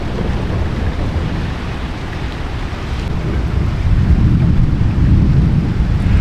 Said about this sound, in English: the rain and heavy thunderstorm will end in 11 minutes